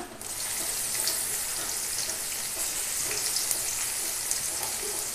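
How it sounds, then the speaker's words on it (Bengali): Crushed garlic and radhuni spice frying in hot oil as a tempering, a dense steady sizzle close up and fairly loud, continuous for several seconds with no talking. "তেল দিয়ে দেবো, রাঁধুনি দিয়ে দেবো ফোড়নে। রসুন থেতো করে রেখেছিলাম"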